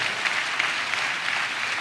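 A church congregation claps in praise during a sermon, a dense, steady burst of many hands heard close and alone without a break.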